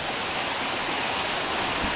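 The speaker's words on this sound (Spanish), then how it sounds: "ya yo estoy más que feliz con esta cascada que hemos encontrado" A waterfall near El Convento in Cañada Fresca pours in a dense, constant roar of rushing water, loud and close, with no other sounds.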